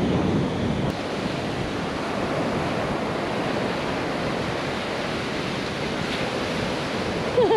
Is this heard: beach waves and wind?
yes